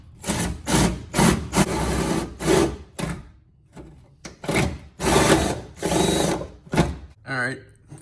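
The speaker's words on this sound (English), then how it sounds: "So let's start drilling." A drill bites into the hood of a Nissan 350Z to make holes for push-button hood pins, whirring in about eight short, close bursts separated by brief pauses.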